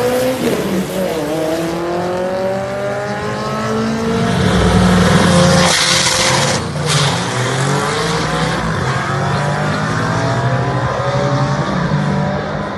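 A front-wheel-drive diesel Skoda Fabia vRS drag car launches hard on nitrous at 5800 RPM. The engine screams upward through several rising gear pulls with a brief tire chirp, loud and close throughout.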